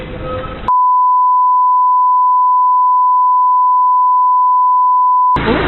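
A steady electronic ringback tone from a phone call holds one unbroken pitch for nearly five seconds, loud and alone, with brief noise before and after.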